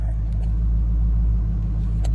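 A 2016 Dodge Charger R/T's engine runs with a steady, deep low rumble, heard close from inside the car, idling or cruising evenly with no speech over it.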